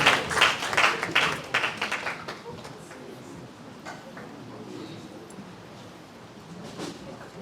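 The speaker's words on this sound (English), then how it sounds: "let's give the children a big clap offering as they coming to the stage" A church congregation at a 70th birthday celebration applauds as children come to the stage, a dense burst of clapping that thins out and trails off into murmuring room ambience.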